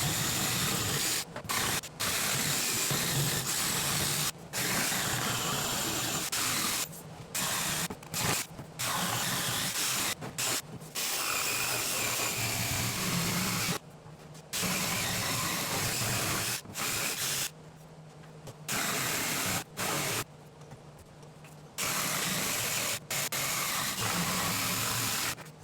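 Loud router or saw rough cutting wooden guitar body blanks on a router table setup, running in long steady bursts separated by short pauses.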